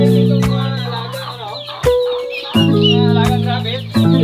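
Chickens cluck loudly and continuously at a school poultry farm, close by, with overlapping calls and a steady low hum underneath.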